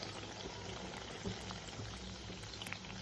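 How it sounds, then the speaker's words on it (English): Quiet, steady bubbling and sizzling of eggless donuts frying three at a time in hot oil, with tiny crackles and pops scattered throughout. "I'm going to put them in the oil"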